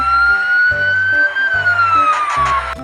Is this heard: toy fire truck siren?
yes